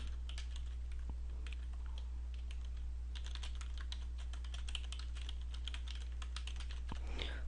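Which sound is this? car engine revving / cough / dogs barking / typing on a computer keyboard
typing on a computer keyboard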